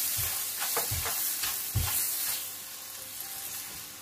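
Curry leaves and Kashmiri chilli powder fry in hot oil for an avocado pickle, giving a steady close sizzle broken by a few soft, low stirring thumps.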